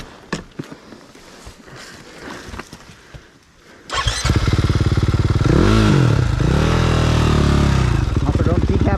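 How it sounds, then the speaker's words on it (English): A dirt bike on a hill climb fires up after quiet shuffling and thumps, then its engine blares loud and close with a fast rhythmic pulse and rising revs, with voices faintly underneath. "Also, don't decapitate Ethan with your bike."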